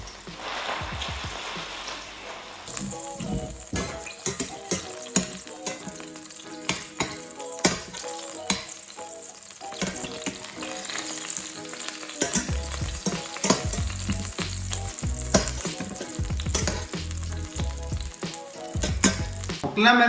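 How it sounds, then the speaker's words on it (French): Mozzarella sandwiches fry in hot oil in a pan, a dense, steady crackling sizzle running throughout with clattering utensil knocks and scraping on top, and bursts of music playing along behind. "L'huile m'a l'air bien chaude. On va passer donc à la cuisson."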